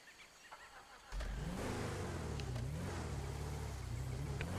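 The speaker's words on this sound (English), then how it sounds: "Notify him with the engine noise" In GTA Online, a car engine starts revving after about a second of quiet, then holds a loud, steady, mid-pitched roar.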